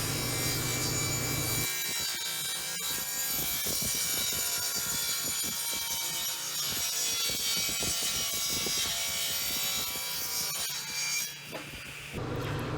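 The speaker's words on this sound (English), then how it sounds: "I'm going to take it back over to the table saw, and I'm going to rip both pieces down to my exact width" A table saw rips wood pieces down to width for a dovetail keepsake box, a loud, steady cutting roar with rough, grinding texture that runs nearly the whole time before spinning down near the end.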